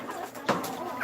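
A chicken gives a short, close cluck, a single quick burst against light background noise.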